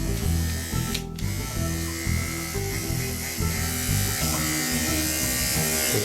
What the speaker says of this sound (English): Here's the AGR with the blade, or the power groom.